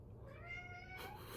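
A cat meows for food, one drawn-out, faint meow that rises and trails off over a quiet background.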